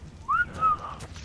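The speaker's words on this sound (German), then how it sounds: "Ach, das ist Pfeifen, okay." Short rising whistle in the video game Ark: Survival Evolved, two clear tones in quick succession over a low background hum, moderately loud.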